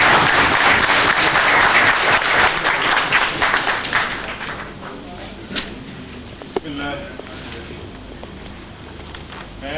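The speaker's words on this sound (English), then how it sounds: "May I please welcome on this day, with a round of applause, Dr. Muhammad Asmandar." Seminar audience gives a loud round of applause welcoming a speaker, strong clapping that fades out over several seconds into a quieter room with scattered last claps and faint sounds.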